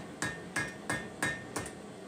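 Hammer blows drift out pre-drilled holes in hot forged steel: five ringing metallic strikes at a steady, even pace, close and loud, each leaving a brief ring before the next. No voices.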